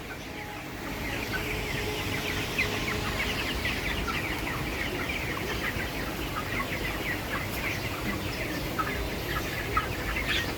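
Many broiler chickens on a poultry farm cluck and chatter continuously, a dense flock murmur at moderate distance over a steady background hum.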